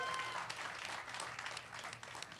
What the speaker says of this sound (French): Une grosse main d'applaudissements.